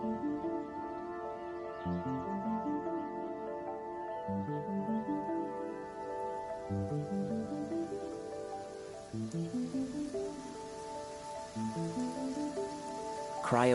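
Rain falls steadily in the Genshin Impact game during an Inazuma adventure, a constant wash under a prominent melodic game soundtrack, with no talking.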